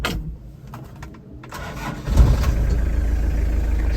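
A Toyota Townace diesel engine cranks over after some faint handling noises and catches around two seconds in, settling into a steady, loud low rumble that continues to the end.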